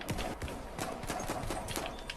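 Horse hooves clip-clopping in the video game Battlefield 1, a run of irregular soft hoof strikes over a steady background rumble, fairly faint.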